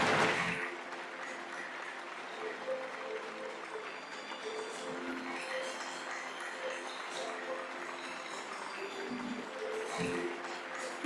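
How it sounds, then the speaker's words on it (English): Fairly quiet applause rises from the audience at a healthcare awards ceremony, running steadily throughout with a musical tone lingering underneath. "We can and you must applaud, please."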